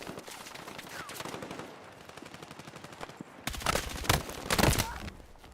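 Rapid automatic gunfire from a weapon in the video game Helldivers, bursts of dense repeated shots that grow louder and heavier toward the end, with a voice talking faintly beneath.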